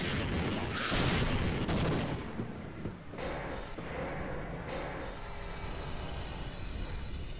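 An enemy launching missiles in Half-Life: a loud whooshing launch burst, then continuous rumbling blasts and rushing noise that slowly settle into a steady roar, with no talking.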